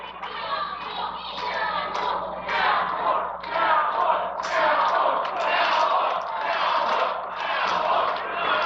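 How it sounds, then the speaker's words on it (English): A wrestling crowd at a Cincy Wrestling show chants for the wrestler known as the Cowboy. The noise is loud and sustained, with rhythmic swells of many voices and scattered claps filling the hall. "Crowd now chanting for the cowboy."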